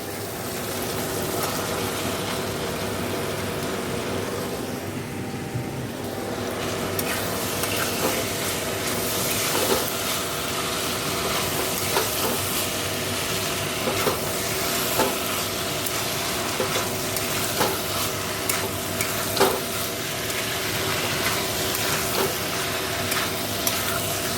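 Masala fried until the oil separates, now thinned with added water and salt, simmers and bubbles steadily in a pan, giving an even, continuous sizzle with faint stirring scrapes throughout and no talk.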